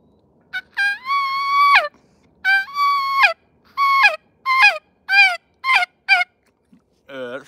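A turkey call used for hunting-season practice imitates turkey yelps: two long drawn-out notes, then a run of shorter, quicker yelps that grow choppier, loud and close against a quiet background.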